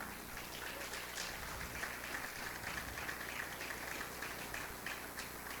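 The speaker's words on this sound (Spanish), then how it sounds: "Fuerte aplauso al Señor." A church congregation claps for the Lord during a Spanish-language sermon, a faint, distant, even patter of applause that holds at a low level throughout.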